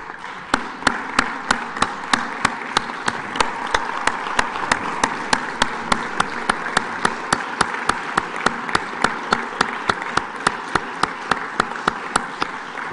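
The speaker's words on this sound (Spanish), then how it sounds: "que nos pongamos de pie y aplaudamos a Jaime" Legislators in an assembly chamber applaud steadily for a long stretch, with sharp, evenly spaced claps standing out above a continuous wash of clapping.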